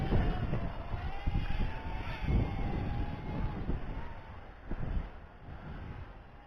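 Wind gusting around a WLtoys Q242-K Wi-Fi FPV quadcopter and its microphone outdoors in roughly 10 mph winds, low rumbling buffets swelling and fading over a thin steady motor whine.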